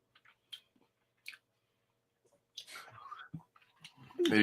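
Close, quiet mouth sounds of someone chewing cheese at a beer and cheese pairing: sparse soft smacks and crunchy bites separated by silence, with faint murmured voice near the end.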